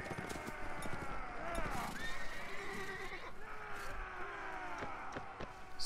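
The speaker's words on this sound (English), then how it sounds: "Oh, a stubborn light cavalry horse" Horse whinnies and clip-clopping hooves in the Mount & Blade video game, several rising and falling neighs over steady hoofbeats and battlefield din.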